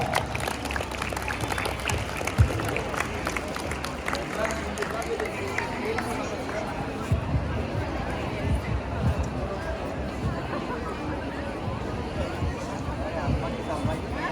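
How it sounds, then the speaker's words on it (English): Audience at a school handball tournament in Siolim, Goa, clapping steadily in a dense, continuous wash of applause with crowd hubbub and a voice over a loudspeaker, sustained at even loudness throughout. "Keep on clapping."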